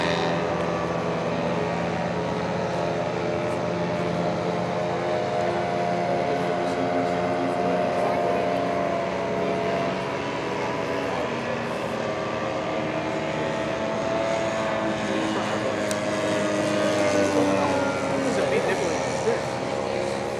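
A vintage propeller triplane flies past at an air show, its engine drone steady and fairly loud throughout, with a public-address announcer talking over it.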